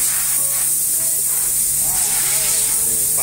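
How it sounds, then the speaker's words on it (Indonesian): A sprayer blasts a Toyota Avanza with a constant loud, high hiss of spray that runs the whole time, while voices are faint beneath it. "Disemprot."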